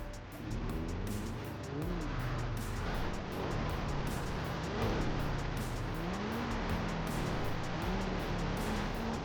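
A yellow Lamborghini racing in the game GTA, its engine revving and shifting up and down over a continuous rushing drone, fairly faint with no voices over it.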